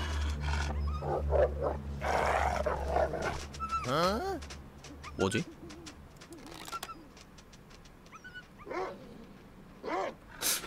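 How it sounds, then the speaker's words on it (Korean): Wolves in the survival game The Long Dark yelp, whine and howl in wavering cries amid snarls and wind, loud and close, while someone speaks briefly in Korean. "왜 늑대가 쫓기는 소리가 나죠?"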